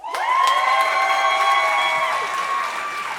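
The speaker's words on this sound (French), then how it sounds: "Applaudissez Frédéric Turcotte." A loud crowd at the Cégeps en spectacle 2024 local final talent show at Cégep de Victoriaville cheers, whoops and applauds for about three seconds in a sustained, voice-heavy swell.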